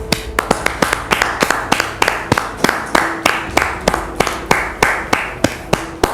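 A French TV studio audience claps in a steady stream of sharp, closely spaced hand claps, welcoming a guest named Dame Martine onto the set. The applause holds a fairly even rhythm and is moderately loud, with no talk over it.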